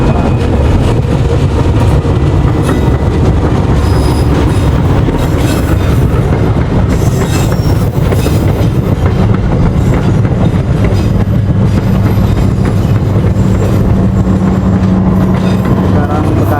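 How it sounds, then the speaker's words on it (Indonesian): Trains rumble past close by on tracks on both sides near Bekasi, with loud, steady low-frequency roar and rail clatter filling the whole stretch. "Ini sebelah sana sama sebelah sana kereta lagi pada lewat."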